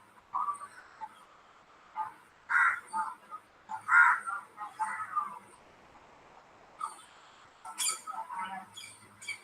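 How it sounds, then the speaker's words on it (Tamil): A koel calls amid other birds, including crows, in a morning outdoor setting: a series of short, separate calls rising out of a quiet background, some louder and nearer, with gaps between them. "இது கேக்குதா குயில்?"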